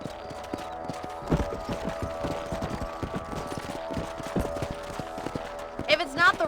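Hooves clip-clop at a steady trot in Red Dead Redemption, close and moderately loud, with a sharp sound burst near the end.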